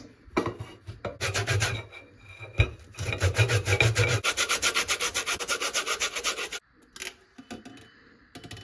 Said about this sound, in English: Orange zest.